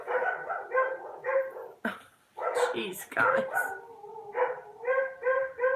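Several dogs bark, yip and whimper in bursts close by, their voices rising into a brief howl-like chorus, while someone talks over them and laughs.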